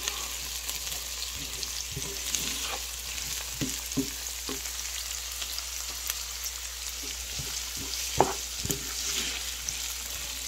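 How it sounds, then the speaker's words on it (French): Seasonings and peppers sizzle steadily while frying in a pan for a shrimp rice dish, with scattered scraping stirs of a utensil against the pan throughout. "Donc là, je vais continuer à tourner les assaisonnements."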